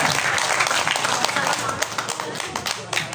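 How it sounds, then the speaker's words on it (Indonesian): Applause from an audience at a student demonstration event at an Islamic boarding school, dense clapping filling the room at steady loudness with voices mixed in. "Oke, tepuk tangan,"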